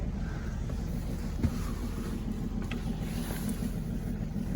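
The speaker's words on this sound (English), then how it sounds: "I still have the starboard engine running. That one is at idle." A boat's starboard engine idles with a steady low drone, with faint mechanical ticks and a light hiss over the top.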